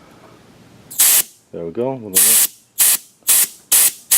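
Refrigerant hisses out of the rear AC line of a 2001 Ford Excursion during bleeding, in a series of loud, sharp bursts of spray, a few seconds apart, with a short spoken remark in between.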